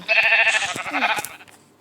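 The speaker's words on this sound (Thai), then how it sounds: "เจอแกะอีกสองตัว" Sheep in the Minecraft video game bleat in a single wavering call that fades out, loud and close, with no one talking over it.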